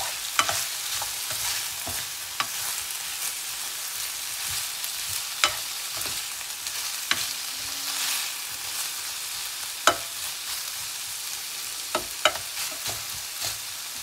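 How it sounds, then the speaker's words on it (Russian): Meat and onions frying in oil in a pan, a continuous sizzle broken by repeated scraping and tapping as the pieces are stirred at an uneven pace. "Обжариваем мясо с луком."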